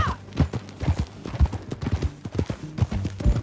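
Rhythmic clip-clop of horse hooves at a steady trot or gallop in Red Dead Redemption 2, close and continuous, with faint ambient background.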